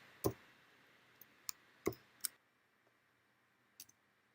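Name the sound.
computer mouse click in script editor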